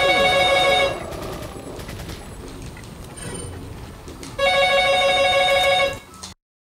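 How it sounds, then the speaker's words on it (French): A telephone rings in the Resident Evil 4 video game in two loud electronic bursts separated by a quieter gap of background game sound, then cuts to silence. "j'ai eu un petit coup de téléphone comme vous avez pu l'entendre"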